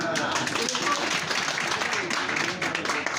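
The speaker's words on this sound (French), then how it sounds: "On applaudit pour ça d'abord." Audience applause at a political gathering ahead of the 2025 presidential election, a dense, steady crowd clapping held at full strength for several seconds with no pause.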